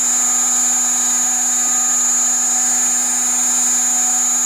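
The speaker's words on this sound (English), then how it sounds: "And this is the motor speed, so this is RPM. So running 7000 right now." An electric motor driven by a BEST FC300 frequency inverter spins steadily at 7000 RPM, giving a constant high-pitched whine with a low hum underneath, loud and unchanging throughout with no talk.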